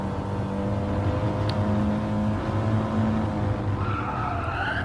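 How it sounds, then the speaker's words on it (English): An Audi TT Gr4 race car in GT Sport spins its wheels, engine droning in steady tones while tire skid noise runs underneath throughout. "You can hear a little bit of wheel spin."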